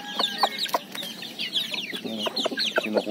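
Native jungle fowl hens and chicks peck and scramble over termites in a forest, with soft clucks and high chick peeps repeating close by in a busy, continuous chatter.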